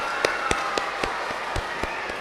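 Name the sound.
congregation clapping for Sunday school teachers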